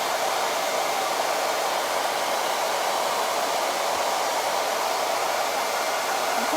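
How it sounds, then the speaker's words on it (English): A loud hair dryer blows without a break, a steady, even rushing hiss that fills the whole stretch with no voices. "Unfortunately, the hairdryer is loud."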